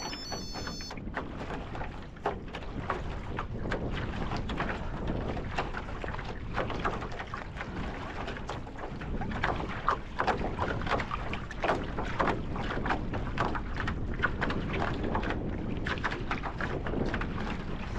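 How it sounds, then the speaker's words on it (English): Strong, brisk headwind buffeting the microphone while rowing a small boat, a steady broadband rush that stays loud and continuous throughout, with faint splashes and creaks underneath. "I'm into the wind. It's a nice brisk wind."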